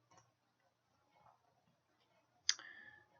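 Mouse clicks during PowerPoint work at a computer: a faint click or two early on, then one sharp, close click followed by a brief rattling tail, with quiet room tone between.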